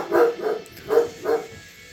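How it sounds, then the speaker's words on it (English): A neighbor's dog barks four times in quick succession from a moderate distance, sharp evenly spaced woofs with no other sound between them. "Wonderful, the neighbor dog is barking."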